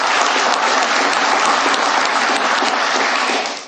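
A crowd at a televised speech breaks into loud, sustained applause, a dense wash of clapping that holds steady and then tapers off at the very end.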